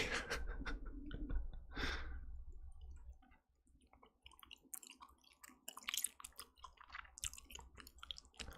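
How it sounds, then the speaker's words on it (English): Gum chewing close to a microphone in an ASMR setting: soft wet clicks and smacks repeating in an uneven rhythm, quiet and intimate, with breathing and a louder rustle at the start. "let me know know if you can hear the gum chewing sounds as well."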